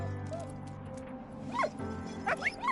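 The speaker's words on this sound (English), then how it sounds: "Oh, we got dog." A dog in the video game Valiant Hearts gives a few quick, high yips and whines near the end over a steady low hum of background game sound.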